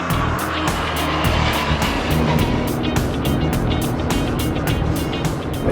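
A car's engine roars loudly and continuously as it accelerates hard on a track, a steady, dense drone with a slight shift in pitch partway through as it takes fifth gear.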